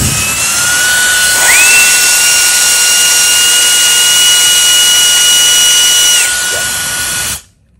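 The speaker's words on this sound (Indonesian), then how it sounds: "Jadi rata-rata memang 30 untuk kecepatan dari jet fan ini, tes kecepatan penuhnya." A mini jet fan runs at full speed, giving a loud, steady high-pitched whine with a tone that steps up partway through, then cuts off abruptly near the end.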